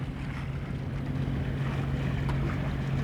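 A sailboat motors under engine power into Rodney Bay, St Lucia: a steady low engine drone hums continuously with wind buffeting and water wash over it, loud and close, no talk.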